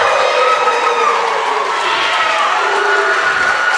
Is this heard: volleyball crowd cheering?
yes